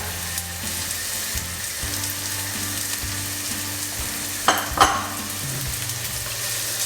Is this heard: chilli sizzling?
yes